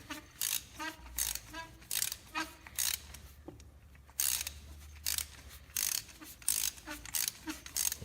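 A hand ratchet works a spark plug loose on a Ford 5.4L 3-valve engine in a 2008-2014 F-150 or Expedition, producing bursts of rapid clicking in a regular back-and-forth rhythm with short pauses between strokes.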